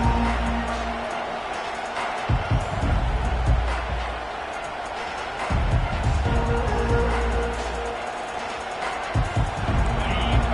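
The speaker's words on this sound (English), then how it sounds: "This crowd bringing an ear-splitting welcome to their visitors." A college football stadium crowd at Georgia at Ole Miss roars in a loud, continuous din, swelling in rough waves with thumps and bursts along the way.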